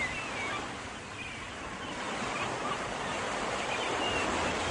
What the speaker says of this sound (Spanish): Las gaviotas.